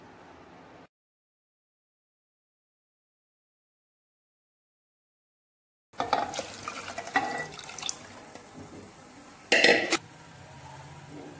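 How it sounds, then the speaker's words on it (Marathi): Soaked dal water is poured into idli batter, a splashing liquid pour with clinks of a vessel, starting after a silence and rising to a brief louder splash near the end. "कालची डाळ भिजवलेलं ठेवलेलं पाणी आपण ते पण याच्यामध्येच टाकणार आहोत।"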